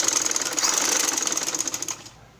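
A sewing machine stitches a seam on a baby frock in a fast, steady rattling run of needle strokes, close and loud, then abruptly stops and leaves near silence.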